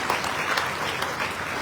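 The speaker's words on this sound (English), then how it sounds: "Ladies, let's give a clap to the men who will do this with us." Audience applause in the Philippine Senate chamber, a steady wash of clapping from many hands sustained throughout, fairly close and even in level with no voices over it.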